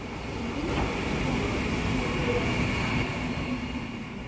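A train at Santipur railway station, a continuous close rumble of rolling carriages with a steady metallic hum and faint squeal, loud and unbroken throughout without speech.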